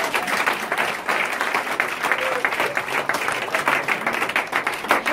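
A church congregation applauding, steady dense clapping from many hands that carries on throughout at a lively, even level, with faint voices mixed in.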